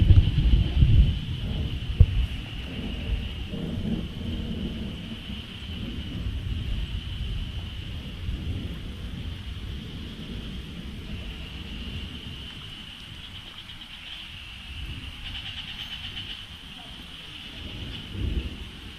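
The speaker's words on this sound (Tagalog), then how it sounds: "Dumadalugdog, kumukulog. May bagyo ata ngayon mga kaboy" Low thunder rumbles through a rainy storm, heavy and sustained at first and then easing to a duller steady roar, with wind and rain noise throughout.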